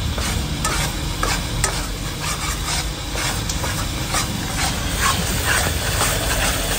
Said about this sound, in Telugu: మసాలా బాగా ఫ్రై అయింది అనుకోండి.